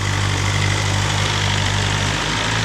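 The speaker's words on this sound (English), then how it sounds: "revs will start dropping and she'll settle into her happy idle" A BMW S1000 RR M Sport litre-class motorcycle idles steadily after start-up, its engine note settling into a continuous low, even rumble up close, with no talk over it.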